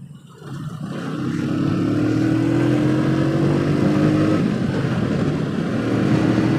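A Bajaj CT100 100cc motorcycle on a road ride near Jodhpur: a steady, loud engine drone that swells in the first second, then holds an even, continuous hum with wind rush and no voices.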